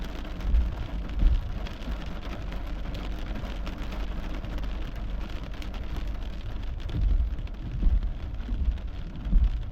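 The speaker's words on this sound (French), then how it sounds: "il pleut de plus en plus fort" Steady downpour hissing on surfaces with low rumbling swells, like distant thunder rolling beneath the rain, during a storm in Saint-Urbain-Premier, Quebec.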